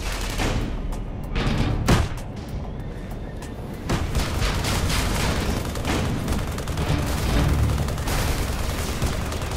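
Base turret gunfire in the video game Tribes Ascend, a sustained barrage of loud, rapid booming shots and blasts that fills the whole stretch, with sharper bursts standing out now and then.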